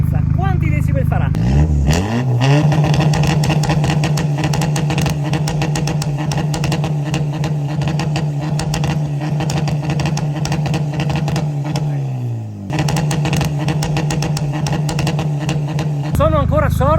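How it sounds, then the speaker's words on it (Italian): A loud diesel engine of a stage 2+ tuned Volkswagen Golf GTD roars close by, revving up and holding at high power with a rough, clattering drone, briefly easing before surging again. "È un diesel abbastanza rumoroso, Molto anzi rumoroso."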